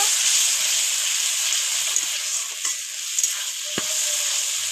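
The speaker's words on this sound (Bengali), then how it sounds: "খুব ভালো করে মশলাটা কষে নেব" Spice paste stir-fries in a pan with a steady, bright sizzle and hiss throughout, punctuated by a few scraping stirs of the spatula, with no talking.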